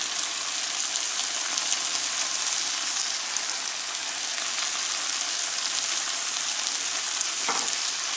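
Tomato masala frying in a pan on medium-low flame for aloo gobi as spices go in, giving a steady, close, even sizzle with crackling throughout and a brief stir-like scrape near the end; no talking.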